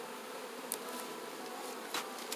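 Bees swarming at a beehive while honey is being brushed free of them, a dense continuous buzzing hum heard close up with a couple of brief louder passes.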